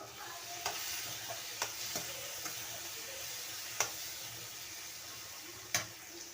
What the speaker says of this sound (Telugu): కారం వేసుకుందాం. వేసుకొని బాగా కలుపుకోవాలి ఒకసారి.